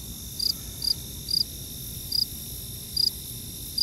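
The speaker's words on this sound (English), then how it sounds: "Crickets." Crickets chirp in short, regularly spaced pulses over a soft, low background hum, with no voices.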